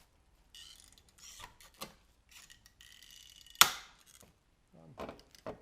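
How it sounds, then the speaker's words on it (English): Rivets are set with a hand rivet tool on the wiring of a Nissan Figaro roof. Quiet mechanical clicks and handling noises build to one sharp, loud snap, and a few softer clicks follow. "Obviously using a rivet."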